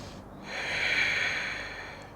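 A single audible breath is drawn in during a strong yoga twist, a soft airy inhale that swells and fades over about two seconds, close and alone.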